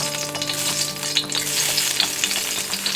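Garlic sizzling in a few tablespoons of olive oil for a copycat Philly roast pork sandwich: a steady, close frying hiss with a few soft stirring scrapes and crackles throughout, no talking.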